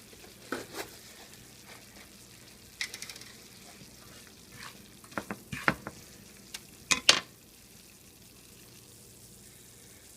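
A flour paste for milk gravy cooks in a pan with a quiet, steady sizzle. Scattered scraping and stirring clicks come in short bursts over the low frying hiss.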